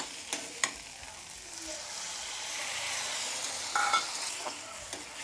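Freshly ground raw spice paste of coriander seed and chili fries in a pan, with a soft continuous sizzle and occasional clicks and scrapes of a spoon stirring it, close and moderately quiet.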